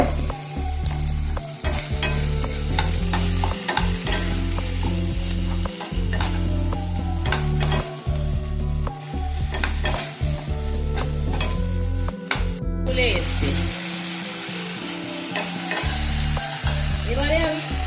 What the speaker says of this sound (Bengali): যতক্ষণ না টমেটোটা গলবে আমি ততক্ষণ একটুখানি নেড়ে যাবো